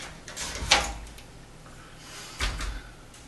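A plastic bottom seal with a deflector is slid off the base of a frameless glass shower door, giving two scraping, sliding rasps about two seconds apart, close and fairly quiet.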